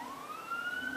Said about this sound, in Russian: вон скорая едет